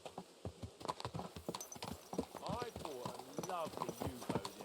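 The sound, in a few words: horse hooves clip-clopping while riding, from video game Kingdom Come: Deliverance II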